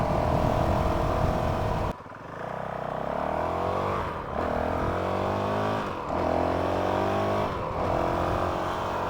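A stock Honda CRF 450 RL dirt bike engine runs fairly quietly, idling and then blipping the throttle in several short revs that rise and fall at regular intervals, close by with no talk.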